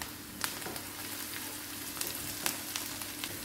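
Carrots sizzle in a pan of onion tadka for a Punjabi carrot, pea and potato curry. The frying is a steady hiss with scattered sharp pops and crackles.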